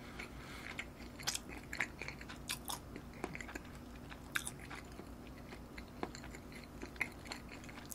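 Close, soft chewing and biting of tuna sushi wrapped in dried seaweed, with faint crunchy bites scattered over eight seconds at low level and no talking.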